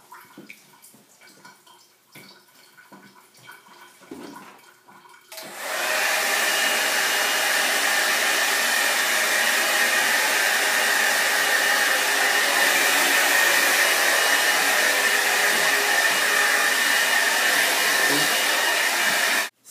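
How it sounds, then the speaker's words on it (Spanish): A hair dryer switches on after a few seconds of quiet rustling and then blows with a steady, loud, continuous whoosh. "¿Dónde está el secador de pelo?"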